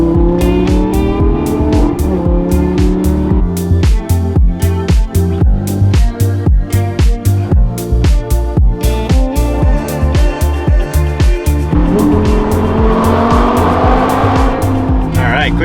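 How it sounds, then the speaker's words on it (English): A Lamborghini V10 engine cold-starts and revs hard in the morning, its loud roar and rapid throttle blips running almost continuously throughout, with a person talking over it. "One way to wake up, a V10 cold start. Wow, that makes some noise"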